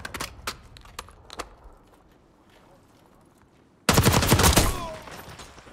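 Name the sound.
gunfire in a video game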